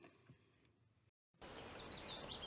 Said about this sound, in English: And just listen to that lovely bird song.